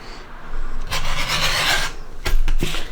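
Scissors or a rotary cutter trimming the edge of fabric for a sewn bag, heard up close as a sustained rasping cut through cloth, followed by two shorter snips near the end.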